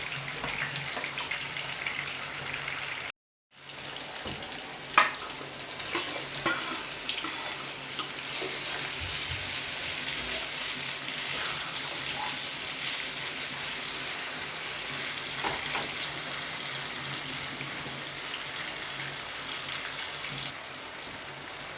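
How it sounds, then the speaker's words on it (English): Fresh herbs sautéing in a pan for a Jamaican saltfish and okra breakfast, giving a steady, fairly quiet hiss and crackle that runs throughout, with a brief dropout near the start and a few faint clinks. "So I'm going to saute the fresh herbs until translucent."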